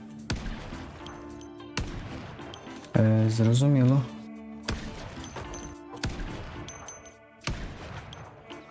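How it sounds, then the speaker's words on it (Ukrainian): Sharp single gunshots from a rifle in the video game Project Zomboid crack out one at a time at spaced intervals, with a louder mechanical burst in the middle and someone talking quietly over them. "А, вона такими одиночними стріляє."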